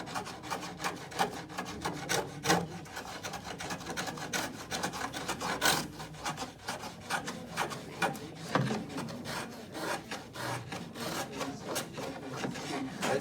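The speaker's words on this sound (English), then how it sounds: "I'm not going to let my spoke shave touch this section again" A spokeshave shaves a curved wooden edge in repeated rasping strokes, each pass a short scraping rub with an uneven rhythm, close and moderately quiet with no talking.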